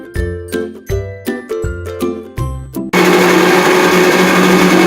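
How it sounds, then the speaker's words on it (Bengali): A kitchen mixer grinder whirs loudly and steadily, blending five to six spoons of poppy seeds with a little water into paste, preceded by a run of short chiming, tinkling notes before the motor starts. "এবার মিক্সিতে নিয়ে নিয়েছি আমি 5 থেকে 6 চামচ পোস্ত, আর এতে সামান্য জল দিয়ে আমি পোস্তটাকে পেস্ট করে নিচ্ছি।"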